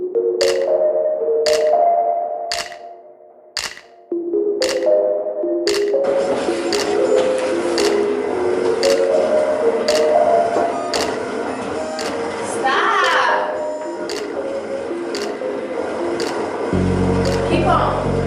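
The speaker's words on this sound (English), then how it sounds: "it goes straight into the cutter and it cuts out everything" A vinyl cutter cuts out hoodie designs: several evenly spaced mechanical beeps and whirs open the passage, then the machine's carriage drives in a continuous buzzing, shifting whine, close and loud, with a low hum at the very end.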